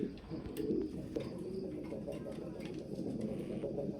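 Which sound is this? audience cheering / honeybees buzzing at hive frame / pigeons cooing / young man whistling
pigeons cooing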